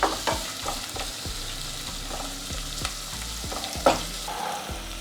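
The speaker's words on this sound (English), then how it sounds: "Now we need to fry the onions until they turn light brown." Onions frying in hot oil with garam masala on a medium-high flame for veg pulao, a crackling sizzle broken by frequent scrapes and taps of a spoon stirring the pan.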